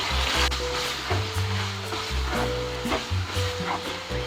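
Seven spices chicken macaroni is stirred in a pan, giving a soft sizzle with scraping and clinking of a spoon against metal under steady cooking noise.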